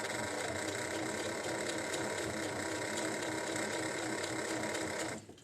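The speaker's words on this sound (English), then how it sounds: "sitting behind my sewing machine" A sewing machine runs steadily at a fast, even buzz for several seconds, then cuts off abruptly at the end.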